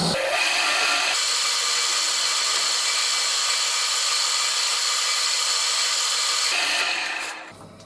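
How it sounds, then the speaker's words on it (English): A wooden lidded pot finished with Wood Wax 22 is buffed, giving a loud, continuous hissing rub that holds steady for several seconds before tailing off at the end. "I'm just going to give that a buff off."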